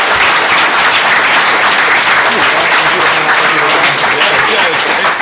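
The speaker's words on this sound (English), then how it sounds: "Let's give these guys a big round of applause." Dense, loud applause from a live startup-exits event audience fills the whole stretch, steady and sustained with a few voices mixed into the crowd noise.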